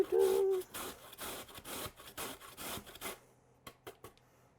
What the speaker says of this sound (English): So I'm just going to go on my fat side here of my grater.